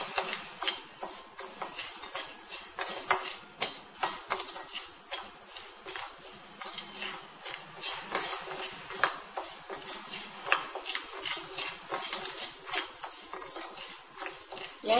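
Washed kodo millet stirred in a metal pan for tomato millet rice, with a steady run of scraping and clinking spoon strokes against the pan, close and fairly brisk, continuing without pause and with no talk.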